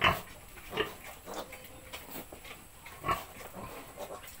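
Piglets on a small farm squeal and grunt in short scattered bursts, faint and somewhat distant, with soft background noise between the calls.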